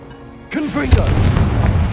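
A Confringo blasting spell explodes in the Hogwarts Legacy video game with a sudden loud boom, followed by a rumbling, crackling tail as a spoken voice rings out over it.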